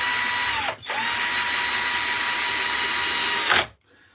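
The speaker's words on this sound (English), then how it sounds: "Cordless drill is a wonderful thing." A cordless drill whirs into wood at a steady high pitch, briefly easing off early, then running loud and constant before stopping abruptly.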